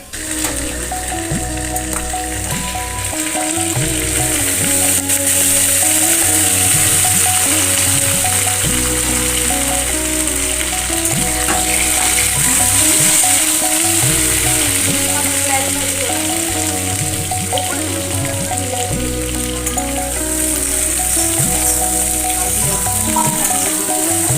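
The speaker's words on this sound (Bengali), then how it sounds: "ওদিকে আলু বোধহয় হয়ে গেছে, একটু দেখি নাড়িয়ে।" Potatoes frying in a pan while being stirred, a loud constant sizzle broken by repeated scraping and clattering strokes of a utensil, close up and without talk.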